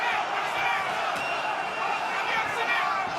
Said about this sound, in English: The crowd is urging Ozcaglayan to let it rip.